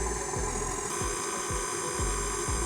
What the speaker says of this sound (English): One more light whisk.